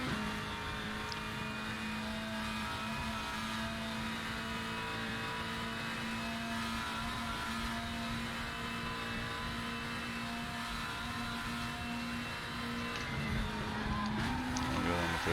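A Volvo WTCC 2017 touring race car in the RaceRoom sim racing game drones steadily at high revs, its engine note holding and climbing near the end as it revs out, loud and continuous with a voice talking over it.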